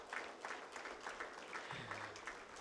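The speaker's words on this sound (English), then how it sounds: "Give them all a big round of applause." Applause from an audience at a commercial bank's 20th anniversary celebration of its remittance service in Kuwait: a steady, fairly faint patter of clapping running through the whole stretch with no voices over it.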